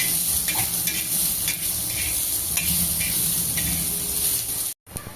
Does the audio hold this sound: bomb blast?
no